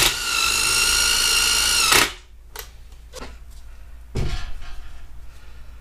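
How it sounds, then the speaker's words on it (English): A loud, steady power drill whines for about two seconds drilling out a part during a Dana 300 transfer case teardown, then stops, leaving scattered clicks, knocks and a renewed burst of rattling tool noise. "try to fucking drill this out"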